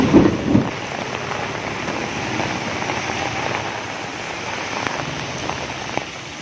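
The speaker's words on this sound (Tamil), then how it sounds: "தூத்துக்குடி மாவட்டம் கோவில்பட்டி நகரில் பலத்த மழை பெய்து சாலைகளில் ஆங்காங்கே மழைநீர் பெருக்கெடுத்தோடுகிறது" Heavy rain pouring on the streets of Kovilpatti, a steady, dense hiss of downpour with a brief louder splash or rumble at the start.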